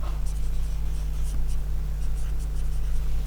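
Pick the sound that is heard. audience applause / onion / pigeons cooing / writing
writing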